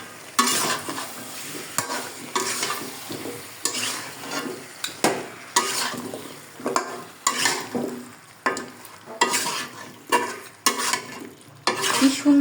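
Potatoes go into a simmering meat curry with whole garlic, and a spoon repeatedly scrapes and stirs the pot in rhythmic bursts over a soft frying sizzle, with no talk.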